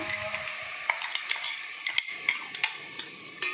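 Tomatoes frying and being stirred in a pan for masala brinjal (eggplant curry), a soft continuous sizzle under repeated close scrapes and clicks of a spoon against the pan.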